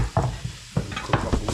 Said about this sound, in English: we're gonna put our mushrooms in here.